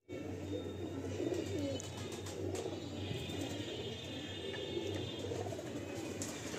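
Big Giribaj pigeons in a loft, soft low cooing carrying on continuously at close range, with occasional faint chirps and light clicks, no talk.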